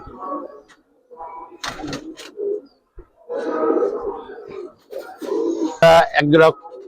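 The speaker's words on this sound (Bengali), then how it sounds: "খরাগলা কবুতর দেখেন" Giribaz khoragola pigeons, an old Dhaka breed, coo in a series of low, throaty bursts close by, broken by short pauses and a fluttery rustle, with someone talking in between.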